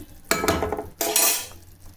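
A spoon stirs a milk and mustard paste mixture in a metal pan for a Bengali dish, making two close bursts of scraping, clinking strokes with brief pauses between them, and no voices.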